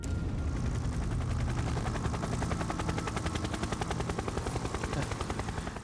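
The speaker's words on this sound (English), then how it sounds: "how could you not hear a helicopter down below you?" A helicopter's rotor thumps in a rapid, steady chop throughout a film scene, loud and continuous, with a dense low roar beneath the beating blades.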